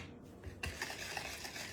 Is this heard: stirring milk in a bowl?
yes